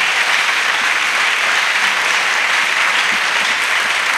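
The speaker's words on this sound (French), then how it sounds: "Let's clap." A church congregation bursts into applause, dense continuous clapping from many hands that holds loud and even throughout, with no voices rising above it.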